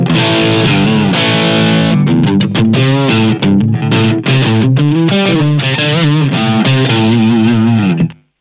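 Electric guitar played with a crunch tone through a Blackstar ID:CORE V4 practice amp. Loud, distorted strummed chords and picked notes ring steadily for about eight seconds, then stop abruptly, with no talking.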